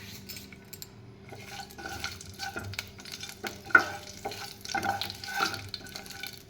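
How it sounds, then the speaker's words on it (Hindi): Cashews lightly frying in a spoonful of hot oil in a pan while being stirred, a soft close sizzle broken by spoon scrapes and clinks against the metal, no voices. "एबे आमे काजू को हल्का भाजी नेबा।"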